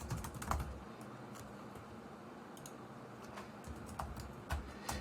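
Typing on a computer keyboard while filling in text in a word processing document, soft clustered key clicks coming in short bursts with brief pauses, fairly faint and close, with no talking.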